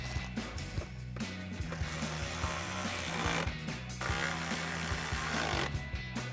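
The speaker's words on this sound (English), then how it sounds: "We're using a 10mm socket with a ratchet." Ratchet with a 10mm socket tightening bolts on a Jeep Gladiator, giving bursts of rapid clicking in repeated strokes with short pauses between them, close and fairly quiet.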